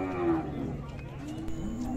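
A cow at a cattle fair in Ouricuri, Pernambuco, Brazil, gives a long, low, drawn-out moo over a steady background of crowd and market noise.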